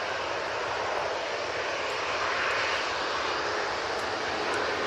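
Airplane taking off at Manchester Airport: a steady, broad roar of aircraft engines, loud and sustained at a distance, with no talking.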